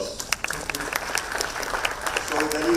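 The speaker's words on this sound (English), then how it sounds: "Big round of applause." Applause from a conference audience at Parul University's BLAIM 2025 event, a dense patter of claps building steadily over about three seconds with some voices mixed in beneath.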